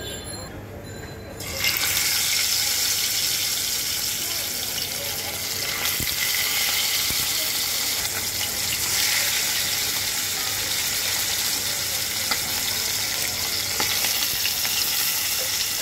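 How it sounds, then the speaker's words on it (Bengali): Fish frying one piece at a time in hot oil in a wok: a loud, steady sizzle begins abruptly after a quieter opening second and holds continuously to the end, with no talking. "এখন আমি এটাকে তেলে ভেজে নেব।"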